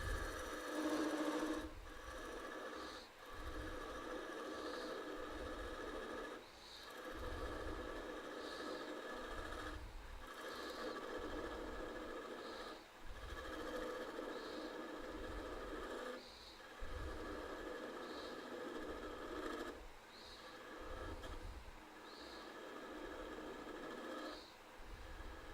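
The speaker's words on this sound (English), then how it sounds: "We'll use the bowl gouge on the walnut here, on the tenon." Bowl gouge turning a walnut tenon on a lathe: a steady mechanical hum with rhythmic, evenly spaced cutting bursts repeating every second or two, fairly quiet and close, with no talking.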